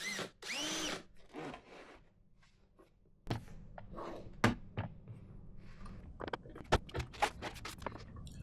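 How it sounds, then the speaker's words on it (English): A step bit drills a hole through a battery box in short bursts of whirring and grinding, close and moderately loud, separated by brief pauses and small clicks and handling noises. "Using a step bit, I can now cut the hole for the switch."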